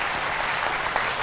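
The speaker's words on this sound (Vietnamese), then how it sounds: "mọi người cho Bizo một tràng pháo tay nè" A round of applause from a group, steady and fairly loud, filling the short moment without talk.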